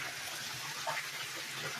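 Water splashes continuously from a koi pond waterfall and a venturi that bubbles air into the water, a steady, dense, close rushing with no pauses and no voices.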